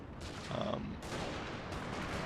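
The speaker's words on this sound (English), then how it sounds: "That's a lot of fire coming in on this house." Musket volleys from massed troops pour onto a house in Napoleon Total War, arriving as a dense, rolling crackle with a couple of sharper broadband bursts, steady and moderately loud throughout.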